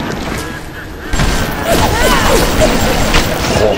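Machine gun fire in BioShock comes in loud bursts of rapid shots and crashing impacts, while someone shouts over the gunfire.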